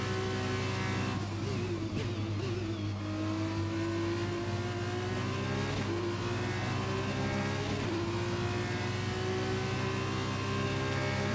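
An F2 race car's engine runs steadily and loud in close onboard view while trailing behind the safety car in Canada, a sustained mid-pitched drone with mild rises and falls in revs and no talk.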